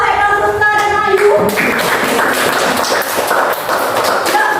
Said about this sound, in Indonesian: tepuk tangan untuk Haikal Susta dan Ayu